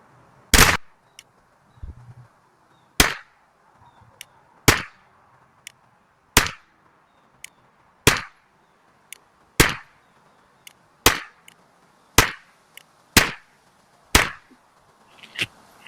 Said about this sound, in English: So let's shoot 10 rounds and see what the difference is.